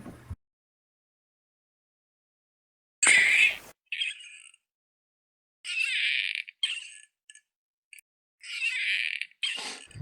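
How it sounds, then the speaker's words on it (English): A bird gives a series of short, harsh squawks in separate bursts, loud and close, with silent gaps between them. "That's the bird."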